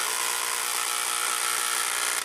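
Power texturing tool buzzing continuously as it hammers small impact indentations into wood, a loud, steady, high-pitched rapid vibration with no pauses.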